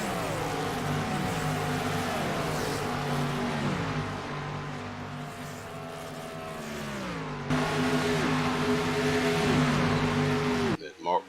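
Race cars circle turn 1 at Las Vegas Motor Speedway, engines droning loudly with repeated pitch drops as they lift and shift, while a commentator talks over the noise.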